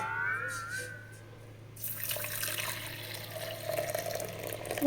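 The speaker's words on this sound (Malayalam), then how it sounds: "നേരി ചൂടുള്ള ചൂടുവെള്ളം അതായത് നമുക്ക് കൈ ഇങ്ങനെ മുക്കുമ്പോൾ ചൂടുണ്ടാവണം ഇത്രയുള്ള ചൂടുവെള്ളം" Warm water poured for bread dough while making butter naan, starting quiet and then a splashing, trickling pour that runs steadily for a few seconds without talk.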